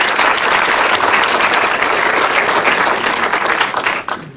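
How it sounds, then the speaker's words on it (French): Loud, dense applause from an audience at a business seminar, steady and sustained before tapering off at the end. "Applaudissements pour Antoine, s'il vous plaît."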